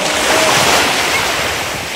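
Ocean surf crashes steadily onto a beach in Zambales, a loud, continuous wash of breaking waves with wind buffeting the microphone throughout.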